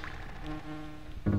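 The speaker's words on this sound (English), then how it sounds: "Everyone hates the bees in this fucking game." Buzzing Zinger bee enemies in the video game Donkey Kong Country, a short steady droning buzz heard on its own, ending in a brief louder game sound.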